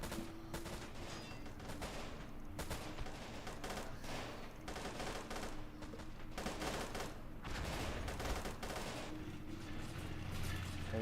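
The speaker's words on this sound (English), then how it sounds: "Panzer is taking shots at the T-34." Tank cannon fire and gunfire in a Robz Mod tournament battle, a Panzer firing at a Soviet T-34: a dense, continuous barrage of booming shots and crackling bursts, loud and sustained throughout.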